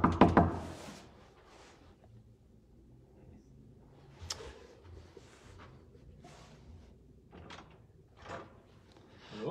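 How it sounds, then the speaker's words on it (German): Knuckles rap on a front door, a quick cluster of sharp knocks at the start and then scattered lighter knocks and thuds, close and distinct against a quiet room. "Da muss ich jetzt gleich mal klopfen"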